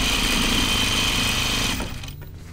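A sewing machine stitches denim jeans at a slightly longer stitch length, a loud, fast, steady motor hum with rapid needle chatter that winds down and stops near the end.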